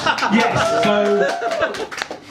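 Crowd at a stand-up comedy gig claps briefly, with scattered chuckles and laughter mixed in, while a voice talks over it near the mic.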